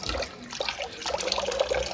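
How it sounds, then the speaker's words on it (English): A kitchen sponge is rinsed under a running tap, giving a continuous close splash and trickle of water that flows steadily throughout with no talking. "Make sure your sponge is rinsed out."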